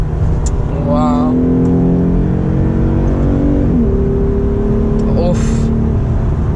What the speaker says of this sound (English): My God, the sound and the revs it pulls are so good.